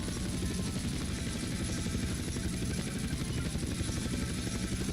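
Helicopter in the video game GTA San Andreas, a loud, steady rotor thrum and engine buzz running continuously and close, with no talk over it.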